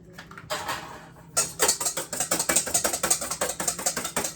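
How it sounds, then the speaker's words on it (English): Two eggs whisked by hand in a bowl for banana nut bread, a brief pause then a fast run of rhythmic metallic taps and clinks, close and clear. "And I want to whisk them together."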